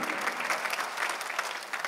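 Church congregation clapping to glorify God, a fairly faint but steady wash of many hands clapping together, continuous and even throughout the short stretch.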